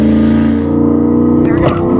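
Turbocharged Ford LTD station wagon with an 88mm turbo building boost on the line at a drag strip, a loud close engine drone holding steady with a rising surge near the end.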